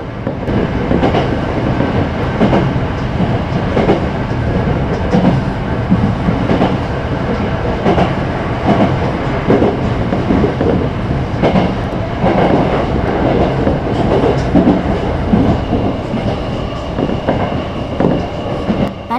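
A Tokyo Metro Tozai Line rapid train accelerating from a cab-front view, with a continuous loud rumble of wheels and rhythmic clickety-clack over rail joints, faint squeal at times, no voices.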